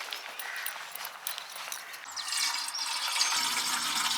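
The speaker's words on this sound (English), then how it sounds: "Washing my face with water and waiting for the kettle to boil." Water splashing and running while someone washes their face at a campsite, a close, continuous wet rush with small splashes that thickens toward the end, no voices.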